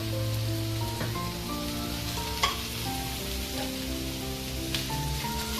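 Sliced onion, green chili and tomato sizzle steadily in a hot pan as a masala, a continuous close frying hiss with a few soft stirring knocks and no talking.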